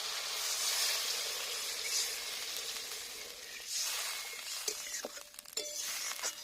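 Water poured into a pan of sautéed spices for a vegetarian bottle gourd dhoka dalna curry sets off a steady, loud hissing sizzle that dips briefly and flares again, with a few sharp crackles near the end.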